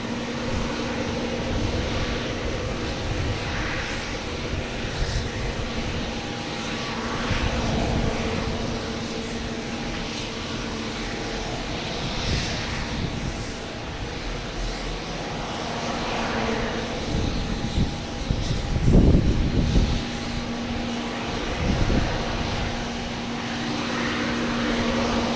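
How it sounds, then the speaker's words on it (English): An American Airlines Airbus A319 arriving at Boston Logan from Reagan, a steady, fairly distant jet roar that swells slightly near the end, with a faint tonal hum underneath and no talk. "Next arrives American Airlines, an A319 coming in from Reagan"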